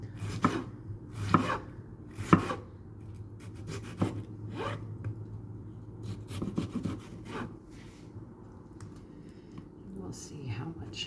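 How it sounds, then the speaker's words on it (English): A knife dices cauliflower on a cutting board, making a run of crisp, uneven chops close by with short pauses between strokes. The cuts are fairly quiet. "And then I'm going to dice it."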